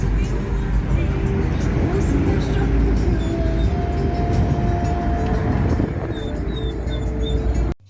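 A car driving, heard from inside the cabin as a steady low engine and road rumble that holds even throughout and cuts off abruptly at the end.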